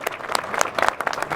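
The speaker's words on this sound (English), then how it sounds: "He did a round of applause to them too to help make this happen." A short burst of applause from a crowd at an outdoor groundbreaking ceremony at Founders Square in Windsor, Connecticut, with steady clapping close by for a moment.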